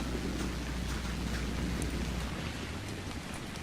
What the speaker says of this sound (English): yeah, of course it's raining.